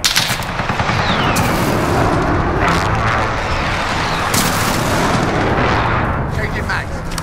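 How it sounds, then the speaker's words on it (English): Heavy airstrike explosions and battlefield gunfire in Call of Duty: Modern Warfare, a dense loud continuous barrage of booms and rattling shots with several sharp blasts standing out, and voices calling out amid the chaos. "Airstrike, get down."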